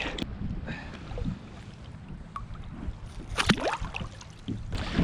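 Gusting wind blows across open water from a small fishing boat, producing a steady low rumble and buffeting against the microphone, with faint splashes and stirring.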